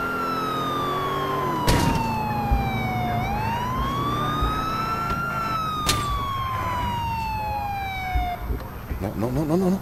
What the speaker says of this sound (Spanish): Vamos a poner la sirena para darle emoción a esto.